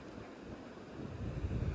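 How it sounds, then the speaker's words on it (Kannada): Strong night wind and sea waves at Panambur beach, heard as a faint, rough, continuous rush with wind buffeting the microphone. A low surf rumble swells toward the end. "ನೋಡಿ ಎಲ್ಲ ಅಲೆಗಳೆಲ್ಲ ಜಾಸ್ತಿ ಆಗೈತೆ ನೈಟ್ ಆಗಿರೋದ್ರಿಂದ. ನೈಟು ಗಾಳಿ ಜೋರಾಗಿ ಬೀಸುತ್ತಲ್ಲ,"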